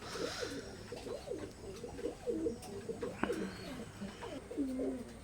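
Teddy pigeons coo softly and repeatedly nearby, low rolling calls overlapping one another against a faint background hiss.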